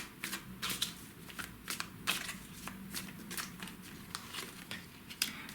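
Tarot cards slide and flick as they are drawn from a deck, giving repeated crisp papery snaps and soft shuffling rustles at close range, with no talking.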